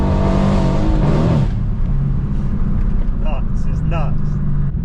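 A tuned 630bhp Mercedes C63 AMG engine revs loudly and close, a rising roar that drops back into a rumbling idle punctuated by sharp bursts, with a voice speaking over the start.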